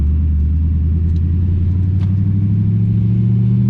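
Six-speed manual car engine accelerating in a steady, loud low rumble that holds throughout, heard from inside the car with no talk.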